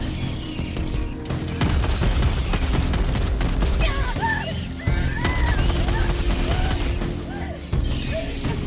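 Rapid, loud gunfire from a shotgun in Helldivers 2, with dense bursts of shots and mechanical clatter in a chaotic battle soundscape, and sparse speech mixed in.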